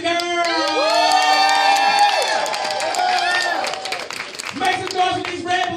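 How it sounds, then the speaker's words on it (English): Party crowd at a charity cocktail event bursting into loud cheers, whoops and shrill shouts, a host's amplified voice riding over the noise before a brief lull and renewed cheering. "Y'all make the noise for Rajee if y'all want her to be the girl"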